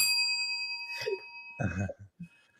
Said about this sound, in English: And every time you say moment of clarity, you get a bell.